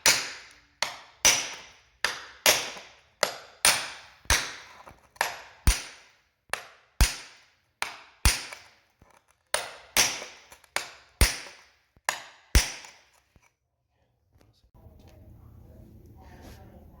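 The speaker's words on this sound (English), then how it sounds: "kept hammering until I got practically to the bottom" Sharp, loud hammer strikes on raised floor tile land one after another at a steady pace, about a dozen in a row, then stop, leaving a faint low hum.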